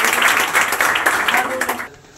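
A classroom group of students claps for a classmate during a matriculation results felicitation, brisk dense clapping close by that stops abruptly near the end.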